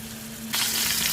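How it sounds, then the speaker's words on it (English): Stuffed pork chops sizzle in a frying pan, a steady close hiss that jumps suddenly louder partway through, with no talking. "Listen to that lovely sizzle"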